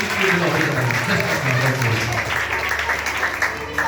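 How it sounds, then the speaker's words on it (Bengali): Audience applause at an award ceremony, honouring Ankush: dense, steady clapping from a large crowd that runs throughout, with a voice talking underneath and a low musical hum in the background. "একবার জোরে হাততালি হয়ে যাক অঙ্কুশের জন্য"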